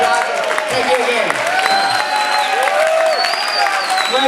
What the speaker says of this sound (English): give a big round of applause. Give it a standing ovation.